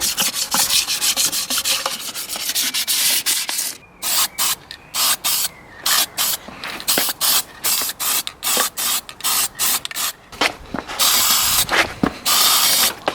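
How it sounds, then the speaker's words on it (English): Car wheels from a Datsun 280ZX build get a quick light sanding before spray painting, loud close rasping strokes coming in rapid uneven bursts with brief pauses between them. "So just giving them a quick light sand"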